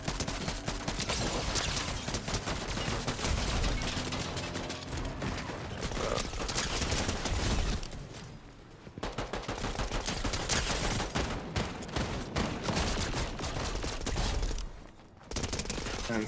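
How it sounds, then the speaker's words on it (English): Gunfire in Fortnite: dense, rapid bursts of shots and sustained automatic fire crackle almost nonstop for several seconds, with brief lulls between volleys. "Somebody shooting at us."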